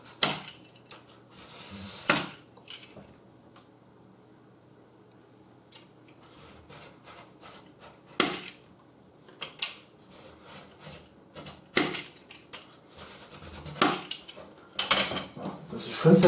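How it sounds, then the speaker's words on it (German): A utility knife scores a sheet of plexiglass with a handful of sharp, scratchy strokes spaced a few seconds apart, close up and fairly quiet, with soft handling noises between them. "Und mit dem Cutter reiße ich das jetzt an."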